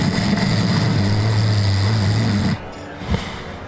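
A voice imitates snoring with a long, rattling, droning snore held for a couple of seconds, then cuts off abruptly.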